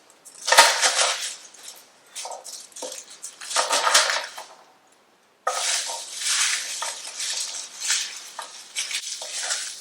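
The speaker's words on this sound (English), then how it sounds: "Just gonna smash them, make it easy to peel." Garlic cloves being smashed and worked in a kitchen for pasta sauce, close bursts of scraping, crunching and clattering separated by a brief silence.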